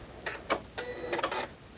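A Janome 3160 sewing machine running a narrow stretch stitch for knits in a few short, close bursts of rapid mechanical clatter, each lasting a fraction of a second.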